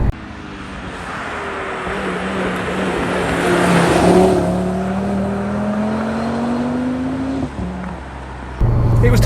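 An Audi RS3 accelerates hard in second gear, its engine note rising steadily and loud from inside the cabin, then easing off abruptly near the end.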